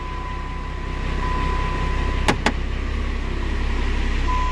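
A Ram 2500 pickup truck idles steadily after being started with a jump pack, a low constant engine drone with a steady hum and two brief sharp clicks partway through; no one speaks.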